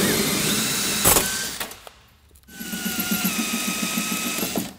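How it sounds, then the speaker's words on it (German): A power drill drills out rivets on a Skoda Fabia door, whirring loudly and close, pausing briefly after a sharp clunk, then running again with a steady rising whine. "Jetzt bohren wir die Nieten raus."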